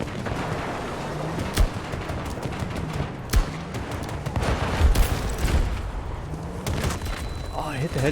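In a video game, an NTW-50 sniper rifle fires several sharp, heavy shots spaced seconds apart, each one a loud crack with a booming tail, mixed with a busy game soundscape and a talking voice.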